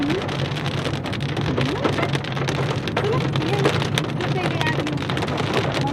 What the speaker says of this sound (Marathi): आपल्या गाडीच्या काचेवरती पावसाचे थेंब पडत आहेत